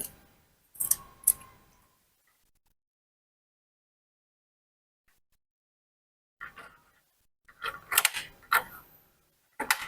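A CPU fan is fitted back into a computer during a home repair, heard as sparse, close plastic clicks and scraping handling noises separated by a long stretch of silence.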